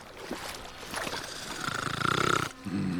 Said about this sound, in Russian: Кто там храпит?